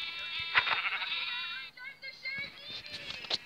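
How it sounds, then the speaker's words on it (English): Sheep bleating in a video game, several harmonic bleats overlapping in quick succession, fairly loud and close, with a short pause midway before more bleats resume. "Kill it. Kill the sheep."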